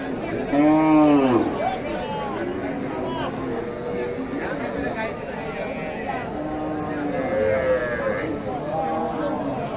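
A cow at a rural cattle market in Bangladesh moos several times in drawn-out calls, close and loud, over a busy background of people talking and market chatter.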